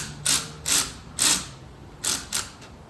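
Five short bursts of ratcheting clicks, evenly spaced and close by, as a tool tightens the intake clamps on a Subaru WRX Cobb intake.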